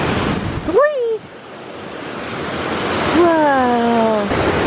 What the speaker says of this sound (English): We can swim at the waterfalls.